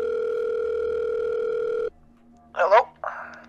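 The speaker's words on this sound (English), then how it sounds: "I'm just gonna call Lucas real quick." Phone dial tone during a call in a Minecraft roleplay, a loud steady electronic tone held for nearly two seconds before cutting off, followed by brief talking.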